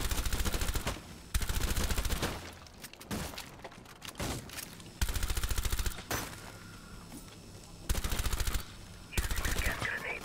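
Bursts of automatic gunfire in the video game Rainbow Six Extraction as shots are fired through a wall, heard as several loud sustained volleys separated by short, quieter gaps.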